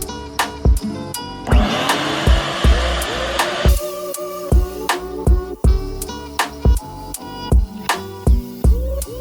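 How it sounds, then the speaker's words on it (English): A Milwaukee M12 Fuel cordless brushless cutoff tool fitted with a dust shoe hooked to a Ridgid shop vac whines steadily for a couple of seconds, surrounded by sharp clanks and knocks before and after. "Milwaukee Fuel portable cordless brushless cutoff tool"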